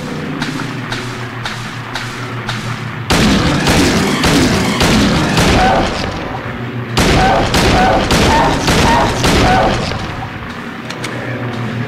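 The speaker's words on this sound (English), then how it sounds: "Certainly don't mind using my gun down here with how little health I have." A player's gun fires repeatedly in Silent Hill 2: loud, booming shots in dense bursts, some reverberant and rapid, over a low, droning game ambience, with a voice talking faintly beneath.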